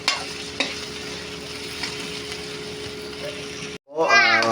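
Potatoes and carrots cooking in a pan before ground pork goes in: a steady close sizzle with a couple of sharp utensil knocks, cut off near the end by a brief pause and a burst of louder clatter.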